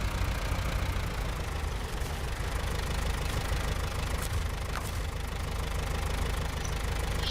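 A truck engine idling in the Snowrunner video game on a timber run near Albany River, Ontario: a steady, continuous low rumble with a faint knocking texture, unchanging throughout.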